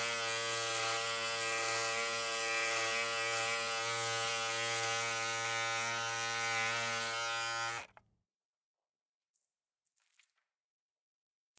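An electric shaver buzzes loudly and steadily for about eight seconds, then switches off, leaving near silence broken by a few faint small clicks.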